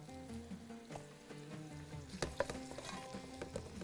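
Coriander seeds and spices frying and being stirred in a pan while cooking Bahraini dishes, with a steady sizzle and irregular scraping stirs that grow busier toward the end, close and fairly quiet, no talking.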